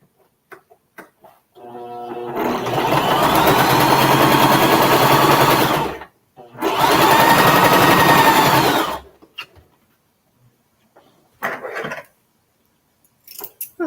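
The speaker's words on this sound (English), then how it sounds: "now I'm going to just sew that" Sewing machine stitching through fabric, two steady bursts of rapid mechanical whirring and clatter, each a few seconds long, with a short pause between them and scattered clicks and handling noises before and after.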